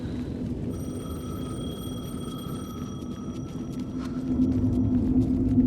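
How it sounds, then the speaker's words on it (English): A payphone rings in the video game Alan Wake 2, a steady electronic trill sustained for several seconds over a dense, low ambient rumble and hum that swells toward the end. "The payphone was ringing."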